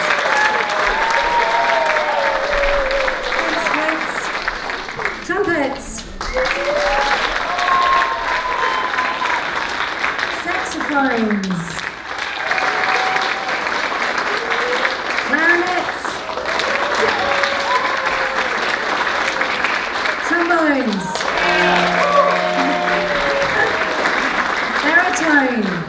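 An audience of parents gives sustained applause at a Year 6 school band concert, with dense steady clapping throughout and voices talking and calling over it.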